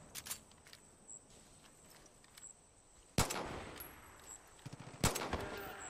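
Scattered gunshots in Far Cry 5, mostly distant and faint, with two sharper, louder cracks standing out over a low ambient background and no speech.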